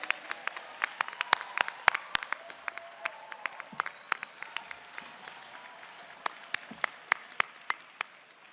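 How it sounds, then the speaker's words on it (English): Audience applause for graduates at a University of Maryland School of Pharmacy PharmD convocation, a steady wash of many hands with sharp individual claps popping out, moderately distant and fading slightly toward the end. "Graduates, why don't you give them a round of applause?"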